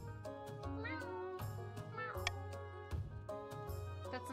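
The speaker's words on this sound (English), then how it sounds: "That's the noise my cat makes when he's alone." Repeated cat-like meowing cries that bend and slide in pitch, fairly close, set against a busy background of game music and sound effects from a King of the Castle strategy-game livestream.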